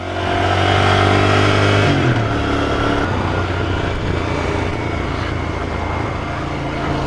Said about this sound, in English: Oh, this engine's something special. It's very smooth.